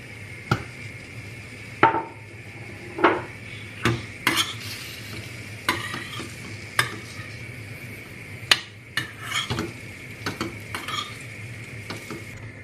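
Slices of sucuk sausage fry in a pan with a steady sizzle, punctuated by repeated sharp clacks of a utensil stirring and scraping against the pan, close up with no voices.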